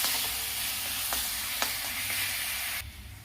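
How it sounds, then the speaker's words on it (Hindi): Masala with coriander powder frying in oil on a low flame for a chicken curry, a steady close sizzle with faint scraping stirs, dropping quieter at the end. "लो फ्लेम पर इसे भूनना है"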